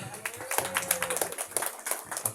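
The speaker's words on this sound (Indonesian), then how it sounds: "Tepuk tangan dulu lah." Audience at an Indonesian constituency recess meeting clapping hands, a brief scattered patter of claps mixed with voices and room murmur.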